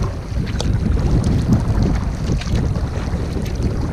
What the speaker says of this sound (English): Heading right into the wind at the minute, towards the portage. Just started to rain as well.